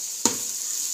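A single short sharp hiss bursts as three eggs hit a hot pan, then settles into a faint steady sizzle, close by and without talking.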